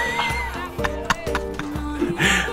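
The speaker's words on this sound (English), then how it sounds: "Grab the horse." A horse in the Mordhau video game neighs and whinnies over hoof clip-clops, loud and close, with game music running underneath.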